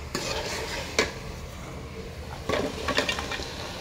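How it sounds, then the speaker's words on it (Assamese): Broiler chicken meat frying and being stirred in a pan, with a steady sizzle broken by a few sharp scrapes and clinks of the spoon against the pan, close and moderately loud. "এই মাংসখিনিও ইয়াতে দি পেলাই আৰু অলপ সময় ভাজিব"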